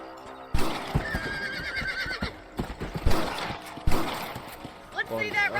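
A horse in the western video game Red Dead Redemption whinnies and snorts while its hooves clip-clop in loud irregular thuds, with a voice speaking over the game sounds.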